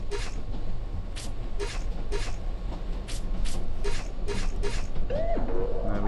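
A door unlocking mechanism in the video game 7th Sector gives off repeated mechanical creaks and clicks in a steady rhythm, ending with a rising whirr as it releases.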